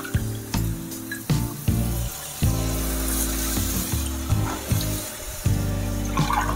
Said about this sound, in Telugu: ఇప్పుడు మనం ఇందులో వాటర్ వేసేసుకుందాము.